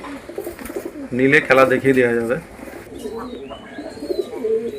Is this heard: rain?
no